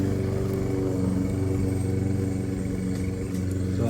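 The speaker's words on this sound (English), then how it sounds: "The neighbor's mowing his lawn." A lawn mower engine drones steadily nearby, a constant loud rumble with no pauses and no voices.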